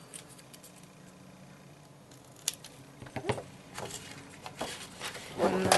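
Scissors snipping the corners of folded paper for a scrapbook album, several short crisp cuts close by, with handling rustles and no talking.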